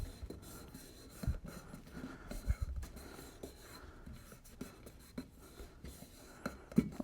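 Soft, scratchy rubbing as sign vinyl is pressed down onto a surface with fine detail, a quiet steady friction with a few light taps and bumps throughout.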